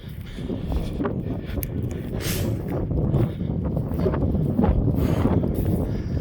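Wind gusting across an open hillside, buffeting the microphone in uneven rushes and roars that swell louder toward the end, with occasional faint knocks and no talk.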